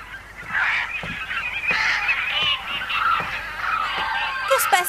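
Cartoon birds honk repeatedly in a steady run of nasal, goose-like calls, loud and close, with several overlapping voices and a brief higher squawk at the end.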